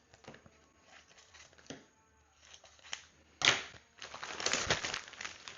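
Scissors or a blade trim the excess from a 3D texture sticker, giving a run of small close snips and crinkly crunches that grow louder and denser toward the end.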